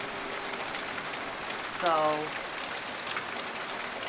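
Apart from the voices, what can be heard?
rain while driving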